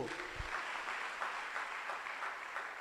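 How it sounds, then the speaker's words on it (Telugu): A church congregation applauding during a sermon, a soft, steady wash of many hands clapping at a distance, with no talk over it. "చప్పట్లు కొట్టు"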